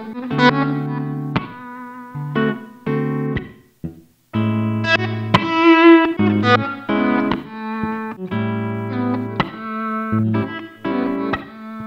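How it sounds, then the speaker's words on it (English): Guitar with notes edited in Melodyne to give a slow fade-in like a volume pedal, so the clean, effected chords and single notes swell softly into sustained tones, heard close and alone. "that instantly gives us that classic like volume pedal sound that a lot of guitar players like to use"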